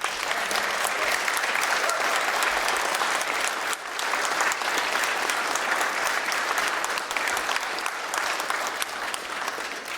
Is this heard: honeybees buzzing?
no